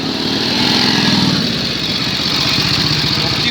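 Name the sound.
US Army Harley-Davidson military motorcycle engine in WWII parade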